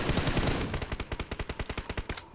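Automatic gunfire in the mobile battle royale game BGMI, aimed at a tanker vehicle: a dense roar of shots gives way to a steady, evenly spaced rhythm of about a dozen loud bursts, then a sharp final crack.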